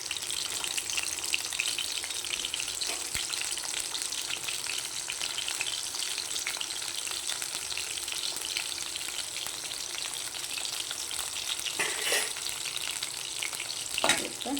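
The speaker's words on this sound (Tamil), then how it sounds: "இப்போ நம்ம இந்த ஆனியனை கட் பண்ண ஆனியனை எண்ணெயில் போடுறோம்" Chopped onions sizzle and crackle steadily in hot oil in a pan, a dense continuous frying hiss up close, with a couple of brief stirring clatters near the end.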